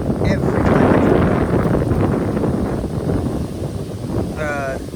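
Strong outdoor wind buffets the microphone in loud, rumbling gusts that swell and ease, with a person talking underneath.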